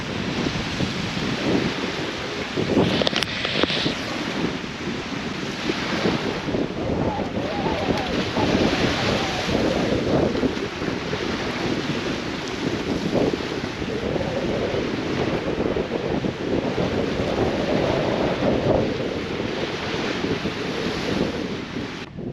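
Wind gusts over the microphone and ocean waves breaking a few meters away on a sunny Swedish summer beach, a loud, continuous wash of surf and roaring air with no pauses.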